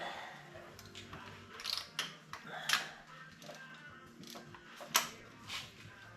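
A ratchet wrench backs out bolts on the engine of a 1972 AMC Javelin that sat parked for 52 years, producing short bursts of close, fairly faint mechanical clicking separated by brief pauses.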